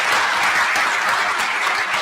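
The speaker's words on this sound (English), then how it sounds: "With a warm round of applause." Sustained applause from an audience at a world religions conference held at a university, steady and full throughout.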